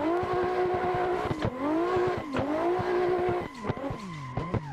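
Tires squeal in a sustained drifting slide in Assetto Corsa, the engine note rising and falling through repeated swings as the car skids, loud and continuous with no talking.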